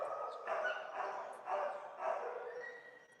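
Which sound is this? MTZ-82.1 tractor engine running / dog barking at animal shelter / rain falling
dog barking at animal shelter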